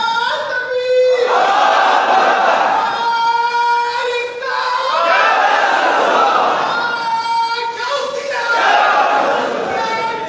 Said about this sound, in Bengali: যেখানে নারায়া তাকবীর দিবা সেখানে অবশ্যই নারায়ে রাসালাত দিয়ে দিবা